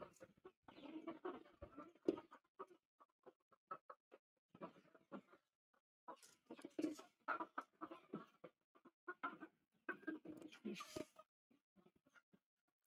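Chickens on an African farm cluck and squawk in irregular agitated bursts over their eggs, fairly close, with short gaps between calls.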